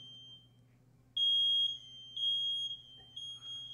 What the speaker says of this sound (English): That's the smoke alarm upstairs going on.